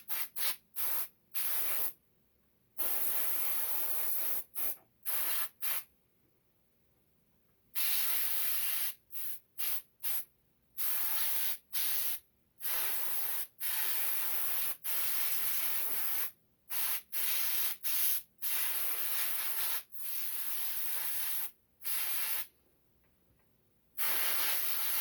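An air compressor drives an airbrush spraying base paint onto a latex prop, heard as loud hissing bursts of varied length, broken by short silent gaps.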